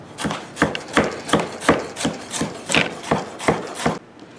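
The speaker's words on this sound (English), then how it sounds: "take 4 slices from a large purple onion, and we're going to dice them" Steady knife chops dicing a purple onion on a cutting board, about ten sharp evenly spaced strikes over a few seconds, then the chopping stops.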